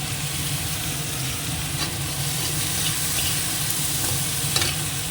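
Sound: onion, garlic and ginger frying in a pan

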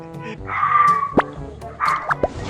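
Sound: dog barking

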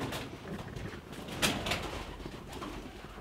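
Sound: pigeons in an abandoned factory

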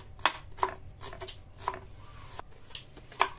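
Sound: knife chopping chilies on a board

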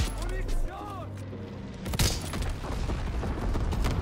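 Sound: gunfire in Call of Duty WW2 video game

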